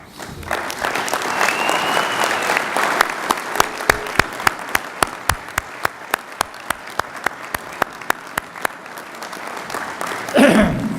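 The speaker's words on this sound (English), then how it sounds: "so we can give you a round of applause" A conference audience applauds retiring members in a large hall, a dense, sustained wash of clapping with a few sharp individual claps standing out, tapering near the end.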